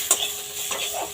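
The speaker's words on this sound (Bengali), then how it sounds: "আদা জিরেটা ভাজা হয়ে গেছে, এবার দেব 4-5টা কাঁচা লঙ্কা চিড়ে নিয়েছি" Green chilies go into ginger and cumin frying in oil over a low flame, giving a close, steady sizzle with a few light stirring scrapes and clinks of a utensil against the pan.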